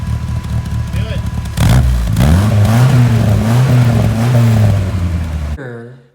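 An Austin-Healey Sprite engine revs loudly up and down close by, its pitch rising and falling through several throttle bursts before cutting out abruptly.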